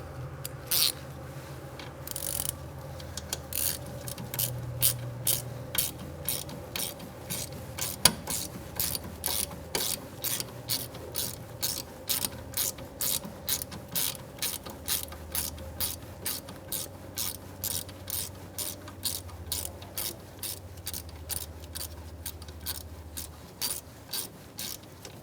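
A ratchet tightens a rear brake hose bolt on a 2002–2006 Toyota Camry, a long run of steady, evenly spaced clicks, close and crisp, with no talking.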